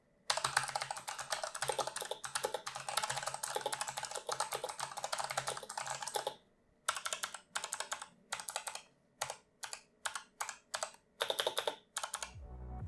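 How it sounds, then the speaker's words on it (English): Typing on a Razer keyboard with purple optomechanical switches, a dense run of loud, clicky keystrokes for about six seconds, then shorter separated bursts of clacking with brief silences between, close and alone. "In my opinion, the keyboard sounds great."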